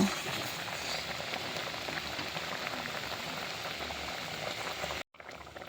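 Raw mango pickle juice boiling in a pan, a steady close bubbling and spattering hiss that cuts out abruptly near the end, then briefly resumes more quietly.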